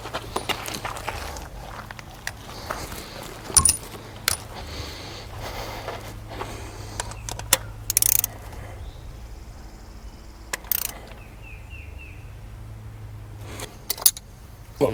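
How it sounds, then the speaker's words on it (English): A torque wrench tightens a new spark plug on a Chrysler 200's 3.6L V6, giving scattered sharp metallic clicks and ratchet ticks at close range over a low, quiet background hum, with no speech. "Snug that down, and we'll torque it down with the torque wrench"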